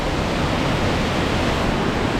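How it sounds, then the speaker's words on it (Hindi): Loud waterfall at Bushkill Falls, Pennsylvania, roaring as a dense, steady rush of falling water that fills the air with no letup and no voices. "ये झरना बहुत ज़्यादा लाउड है"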